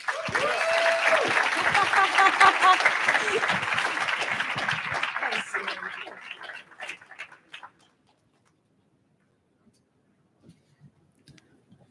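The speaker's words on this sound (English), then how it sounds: "Can we get one more round of applause for Elena, please?" An audience at a summit on AI, Web3 and real estate gives a speaker a long round of applause, full and steady at first, then thinning to scattered claps before falling silent.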